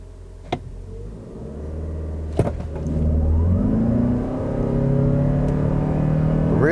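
A 2021 Toyota RAV4 Prime plug-in hybrid with 302 horsepower accelerates hard from 0 to 60 in hybrid mode. Its loud, steady engine drone climbs in pitch, with a couple of sharp clicks near the start and no talking.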